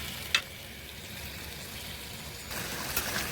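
Fish and eggplant sautéing in a pan, a steady close sizzle with one sharp clink of a utensil early on, the frying turning slightly louder in the last second.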